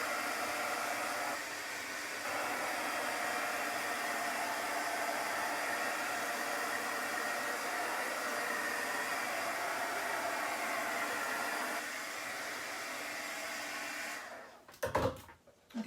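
A hair dryer blows steadily on chalk paint coating a wooden sled, a loud, even rush of air lasting about fourteen seconds before it cuts off, followed by a few brief handling knocks.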